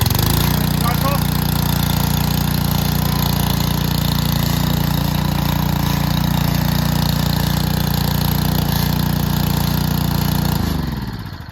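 A Billy Goat SC18 turf cutter's small engine idles with the choke off, a loud, steady close-up rumble that runs throughout before cutting out and dying away at the end.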